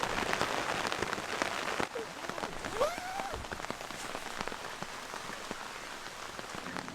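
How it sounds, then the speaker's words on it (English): Rain falls steadily during suburban stealth camping, a constant hiss with scattered drop taps on a surface and a faint brief chirp midway, fairly quiet overall. "because it's raining so badly"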